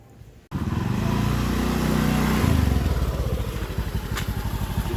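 A motorcycle engine starts abruptly and runs close by, revving steadily, then settling into a rough, pulsing idle with a rhythmic chug.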